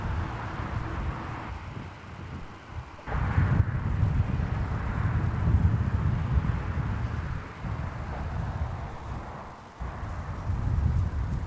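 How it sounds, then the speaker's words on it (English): Strong wind buffets a microphone at Adelaide Airport, a low rumbling gusty roar that rises and falls in surges with brief lulls, with no talk over it. "Yeah, it's definitely strong enough. It's a decent wind."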